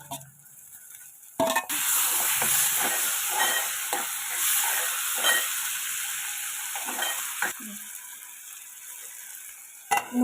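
Onions softening and tomatoes cooking in a pan for a dried fish and brinjal curry, a steady close sizzle with a few sharp clicks and metal scrapes of stirring, no talking.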